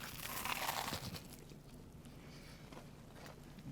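A crunchy bite into a grilled cheese sandwich filled with pulled pork, heard as a short, close, soft crackling burst followed by quieter chewing texture.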